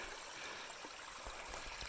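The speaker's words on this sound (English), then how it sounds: "the spring coming into it" Cold spring water streams steadily into a future pond site on a hillside, a soft continuous trickling flow with no talk.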